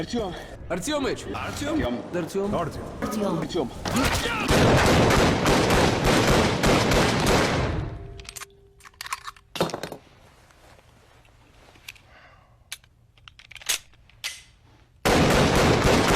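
Gunfire in the video game Metro: dense gun and combat noise under a talking voice, followed by scattered sharp shots and clinks in a quieter stretch, with a loud burst returning at the end.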